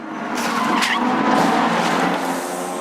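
A race car's tires screech in a sharp skid, loud and close, followed by a rough grinding rush of noise as it crashes into the Shannon's Dipper wall at Bathurst during the 2018 Bathurst 12 Hour.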